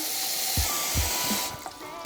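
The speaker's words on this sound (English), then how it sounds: "we're just gonna go ahead and fill our pot about halfway with some water" Tap water runs steadily into a pasta pot with a continuous hissing splash, joined by a few soft low knocks from the pot.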